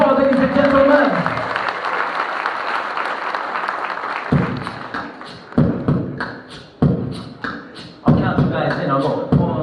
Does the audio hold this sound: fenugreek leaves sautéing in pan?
no